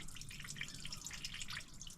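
Engine coolant drips steadily from a Perkins M50 sailboat engine, a quick run of small, close, bright droplet splashes with no talk.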